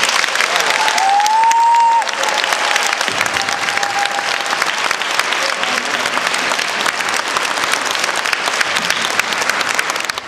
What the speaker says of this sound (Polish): Oklaski dla Ducha Świętego.